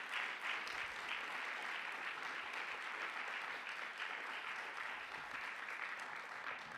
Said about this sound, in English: Maybe we can just give these two a round of applause.